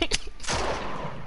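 Close, loud bursts of video game gunfire crack out at the start, followed by a dense, sustained roar of shooting and explosions with no talking.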